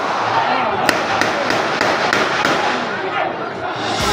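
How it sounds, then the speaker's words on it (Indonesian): Police gunfire during a drug-dealer arrest in a village in Mesuji, Lampung, heard as a rapid series of sharp cracks over a continuous loud wash of crowd and outdoor noise. "Suara tembakan terdengar bersahutan."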